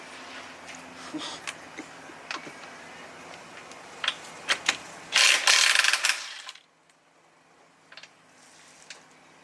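A lug wrench works the nuts loose on a Dodge Hellcat wheel during a home brake job, giving scattered ratcheting clicks and metallic ticks, then a dense rapid burst of ratchet chatter before the sound drops away to near silence.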